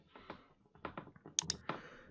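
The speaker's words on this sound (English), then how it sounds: "Let's type in username and password." Quick bursts of keystrokes on a computer keyboard as a username and password are entered, irregular clusters of close, crisp clicks with short pauses between them.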